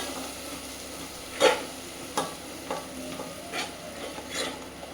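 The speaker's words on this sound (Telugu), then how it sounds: "మీడియంలో పెట్టి మాడకుండా ఇలా తిప్పుతూ ఉండాలి మధ్య మధ్యలో." Curry masala frying in oil in a pan over medium heat, with a steady soft sizzle and a few scraping stirs of a spoon against the pan at irregular intervals.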